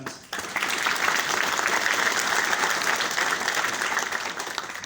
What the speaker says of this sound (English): Can we do a loud clap and